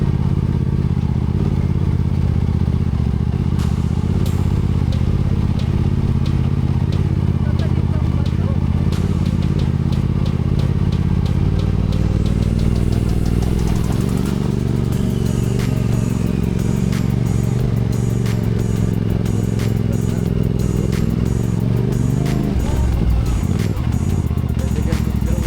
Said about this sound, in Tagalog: dahil sa medyo basa pa ang daan at madulas ang aming motor